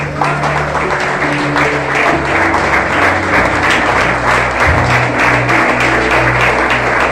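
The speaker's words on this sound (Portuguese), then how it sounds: "Vamos aplaudir o Senhor por crédito." A church congregation applauds during a Sunday family worship service, a dense, steady wash of many hands clapping that fills the room for several seconds, with faint voices underneath.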